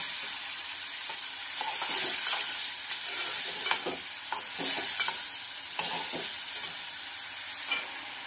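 Chopped tomatoes sauté and sizzle in a pan for a spicy brinjal bharit, with a steady frying hiss under repeated close spatula scrapes and stirring strokes throughout.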